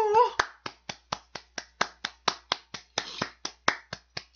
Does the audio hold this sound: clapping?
yes